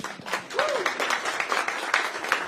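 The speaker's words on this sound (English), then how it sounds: "Let's give her a round of applause." Applause from an audience at a community Q&A event in southeast Iowa, moderately loud clapping that starts almost at once and carries on steadily, with a few voices faintly mixed in beneath the hands.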